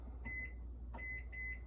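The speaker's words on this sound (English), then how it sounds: "we're gonna put this in the microwave for 5 minutes" A microwave oven set for five minutes of heating gives a few short electronic beeps, quiet and clean against a low hum.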